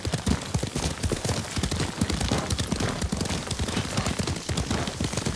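Horse hooves gallop in fast, steady clip-clop beats across rough ground in the samurai video game Ghost of Tsushima, a dense close rhythm continuing throughout without speech.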